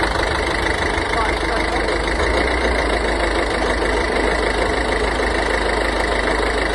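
A crash-damaged Ford Focus MK3 engine runs at a steady idle, with a loud, continuous mid-range hum and broad rumble filling the clip. It sounds close and constant and does not change through the whole stretch.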